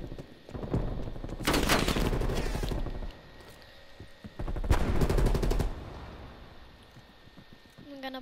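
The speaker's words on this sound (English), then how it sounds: "At least I have a sentry turret." A sentry turret in Black Ops multiplayer fires its machine gun in two sustained rapid bursts, each a loud stream of evenly spaced shots lasting over a second, separated by a quieter pause.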